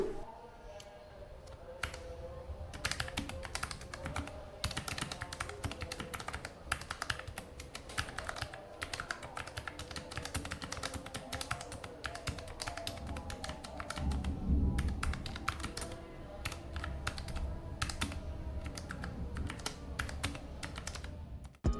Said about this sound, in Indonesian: setelah nyoba keyboard ini untuk ngetik dan main game